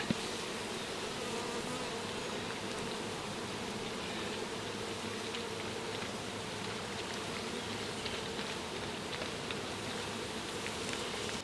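Honeybees trapped in a jar buzz in a dense, steady drone that holds at an even, moderate level throughout.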